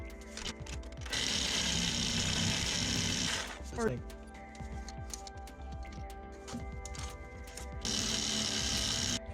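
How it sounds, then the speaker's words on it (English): Sawzall reciprocating saw cutting into Volvo suspension parts, heard as two loud, sustained bursts of rapid buzzing with a quieter clattering stretch between them. "So we got our Sawzall. Make sure the blade's attached."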